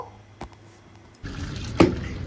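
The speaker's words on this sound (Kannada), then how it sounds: "ಒಂದು ಸ್ವಲ್ಪ ನೀರು ಹಾಕೋಬೇಕು ಆ್ಯಂಡ್ ಕುದಿಯೋಕ್ಕೆ ಬಿಡಬೇಕು" Water is poured into a pot of mutton sambar, a short splash and trickle after a few faint drips, close and fairly quiet.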